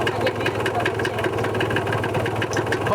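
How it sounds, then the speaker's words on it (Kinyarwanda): A motorcycle engine idles steadily and close by during a riding lesson, holding an even mid-pitched hum throughout. "Atweretse uburyo ushobora guhagurutsa moto neza, ugahagurutsa ukanahagarara neza."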